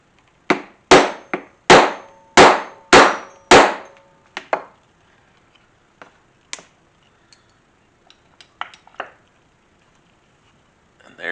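A hand punch hammered through leather for snap holes on a knife sheath hold-down strap: a quick run of six sharp, ringing metal strikes close by, followed by scattered lighter taps and clicks with quiet gaps.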